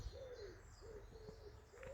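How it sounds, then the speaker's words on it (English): A pigeon coos in soft, repeated low calls outdoors during a rest stop on a rural trail walk, faint over steady background noise. "Can you hear that pigeon?"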